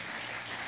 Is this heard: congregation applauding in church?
yes